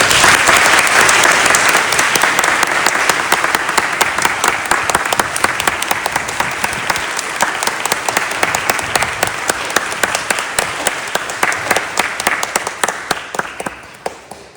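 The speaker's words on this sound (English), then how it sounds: "Please join me in a round of applause for him." An audience gives a long, loud round of applause for Fr. Antonio at a parish event. Dense, sustained clapping runs throughout and tapers off at the very end.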